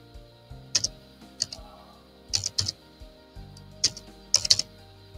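Keys tapped on a computer keyboard at a point-of-sale terminal while entering a cash amount, sharp close clicks in short clusters of two or three separated by brief pauses, with no talking.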